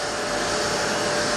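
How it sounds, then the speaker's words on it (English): Electric fan blowing in a hot workshop, a steady close broadband whoosh of air that runs without a break for the whole moment, with no voices. "Sorry about the wind off this fan."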